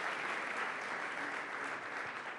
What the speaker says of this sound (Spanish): Sí, pueden aplaudir, sin temor